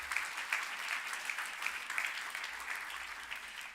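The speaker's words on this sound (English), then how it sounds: "let's give them a round of applause" Steady applause from an audience at a public meeting in Bramlett, continuous dense clapping at moderate distance with no voices over it.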